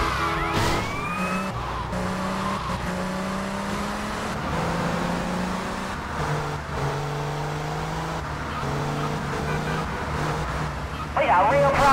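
A wailing police siren in the GTA Vice City Definitive Edition game, heard over a steady car engine drone and rushing traffic, sounding throughout at moderate level with a brief burst near the end.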